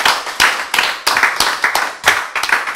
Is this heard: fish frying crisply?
no